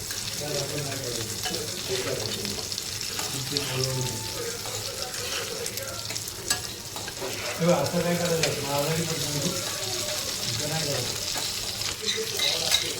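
Crispy rawas fish frying in a pan, a dense continuous sizzle and crackle heard close up throughout, with stirring or turning noises and occasional louder bursts, no speech.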